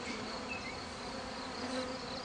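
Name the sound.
honey bees buzzing inside a hive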